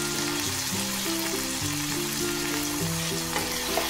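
Meat marinated with ginger-garlic paste, turmeric and salt frying in a pan makes a steady sizzling hiss, partly masked by continuous background music.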